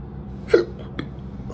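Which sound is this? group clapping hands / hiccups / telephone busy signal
hiccups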